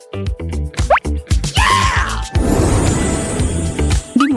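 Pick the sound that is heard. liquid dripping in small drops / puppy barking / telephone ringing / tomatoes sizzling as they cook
liquid dripping in small drops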